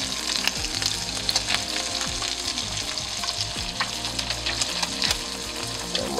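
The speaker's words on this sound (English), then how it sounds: "we're pretty much just going to sit there and sizzle these bad boys right in the butter." Smelt fish fry in butter in a pan with a loud, steady, crackling sizzle that carries on without pause and without talk.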